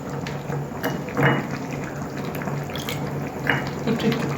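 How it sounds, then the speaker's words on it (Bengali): Water used to rinse a bowl of poppy seed paste is poured into a pot of ridge gourd and potato curry, a soft steady splashing and trickling of liquid up close, with a few light clinks. "একটু পোস্ত বাটি ধোয়া জলটা দিলাম"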